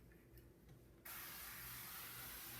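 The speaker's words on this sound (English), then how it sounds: "spraying oil" A sudden, steady hiss of aerosol cooking oil sprayed onto a griddle starts partway through and keeps going loudly to the end, after a quiet, faintly clattering start.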